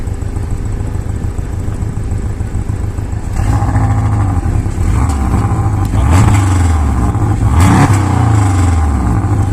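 A Porsche Boxster 718 S with 350 hp revving its engine, a loud close idle that swells into several rising and falling revs, growing louder toward the end.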